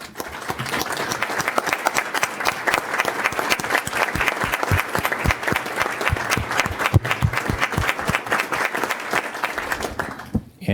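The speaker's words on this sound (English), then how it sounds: "I'd like to offer a round of applause for them." Sustained applause from a council meeting audience honoring current and former Evanston Fire Department members, dense steady clapping throughout at close range, tapering off near the end.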